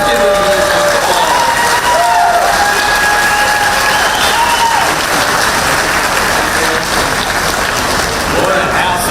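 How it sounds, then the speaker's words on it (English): Loud, sustained applause and cheering from a crowd at a political rally held at a facility in Peachtree City, Georgia, running steadily throughout with faint voices mixed in. "Yeah, let's give them a big applause."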